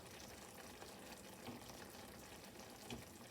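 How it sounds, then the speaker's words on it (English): A creamy tomato garlic sauce simmers on low heat in a pan, giving a steady, quiet bubbling and soft sizzle with a few small pops, close and continuous throughout. "Just enough to keep it at a simmer"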